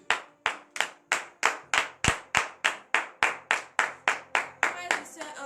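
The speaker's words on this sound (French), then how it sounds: "nous allons nous lever et donner de vives acclamations à notre Seigneur" A church congregation at a Beninese morning prayer claps in unison, about fifteen sharp, evenly spaced claps in a steady rhythm, close and loud, with faint voices underneath.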